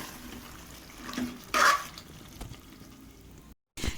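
Half a tumbler of water is poured over mutton in a pot for biryani, a brief close splash rising out of low kitchen background noise, with a short pause before the sound resumes.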